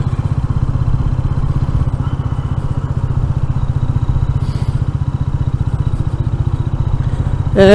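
Royal Enfield Meteor 350 single-cylinder motorcycle on the move, a loud, steady thumping engine pulse close to the mic throughout, with wind rush and a brief change near the end as a gear is shifted.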